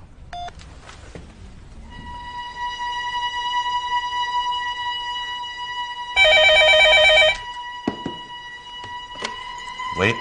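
Telephone ringing after a call is placed to an office line, a steady electronic ring tone with a louder burst partway through, then a click as it ends.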